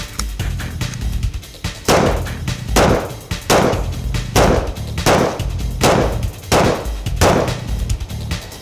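Hi-Point pistol rounds fired one after another, sharp loud close shots in a steady rhythm of roughly one every second, each with a short echo.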